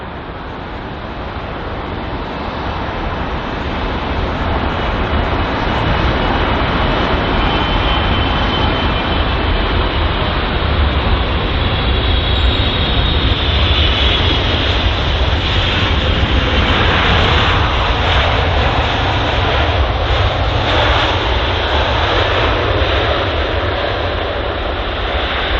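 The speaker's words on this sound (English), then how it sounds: "next up we have the Boeing 777, which is actually operated by American Airlines, arriving from Dallas on its 8-hour and 23-minute long flight" An American Airlines Boeing 777 arrives from Dallas at London Heathrow, its engines making a loud, steady roar that swells and holds as the jet passes close by.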